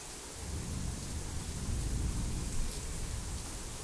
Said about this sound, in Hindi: ये बारिश है, यहीं आ रही है